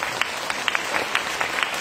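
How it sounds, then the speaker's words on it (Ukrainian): Applause from an audience at a charity music concert, a short spell of scattered clapping with sharp individual claps standing out, fairly faint and distant. "так що окремо йому аплодуємо за гарний день"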